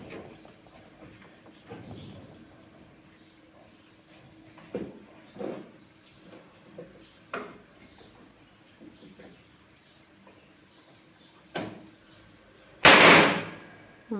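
Firecrackers go off outdoors as a string of scattered pops, then one sharp, loud close blast near the end, with faint birdsong and ambient noise between the bursts.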